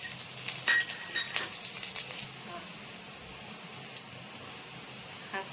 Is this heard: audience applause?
no